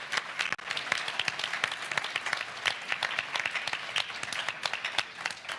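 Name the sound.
audience applause at a party conference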